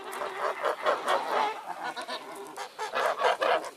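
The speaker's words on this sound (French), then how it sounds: "Maintenant, nous sommes avec les oies." A small flock of young geese honks close by in a French village setting, giving a busy, continuous run of overlapping nasal honks and cackles with no pauses.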